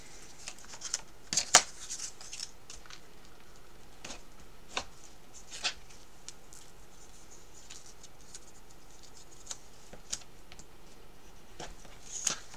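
Scrapbook album paper is folded and creased by hand, making soft, sparse scraping and tapping sounds with a few sharper clicks over a quiet background.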